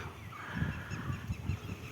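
A bird calls repeatedly above paddy fields in Palakkad, a series of low, faint honking calls in an uneven rhythm over soft outdoor background noise.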